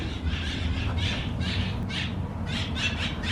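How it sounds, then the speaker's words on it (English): Several birds squawk loudly and repeatedly in harsh, bursting calls over a low steady background rumble. "birds are loud as hell"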